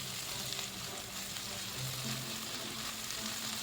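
Spice paste with ginger paste frying and being stirred in a pan, a steady soft sizzle with faint scraping, continuous and close, no voices.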